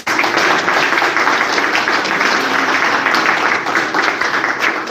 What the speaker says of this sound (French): Est-ce qu'on peut s'applaudir s'il vous plaît?